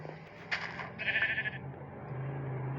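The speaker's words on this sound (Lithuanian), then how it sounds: "Avis." A few short, bleating sheep calls from a video game, a couple of higher cries followed by a lower drawn-out bleat, fairly close with no talking.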